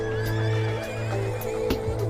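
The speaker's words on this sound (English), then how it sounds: "And they make horse sounds." Horses neigh repeatedly in a city-building video game, a steady whinnying over a constant hum of game ambience, with a few clip-clop hoofbeats and no talking.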